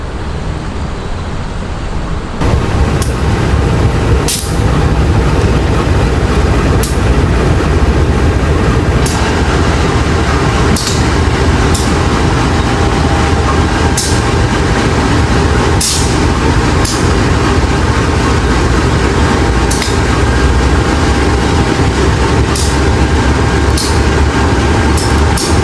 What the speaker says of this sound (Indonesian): itu lokomotif dinas sudah mau tempel tuh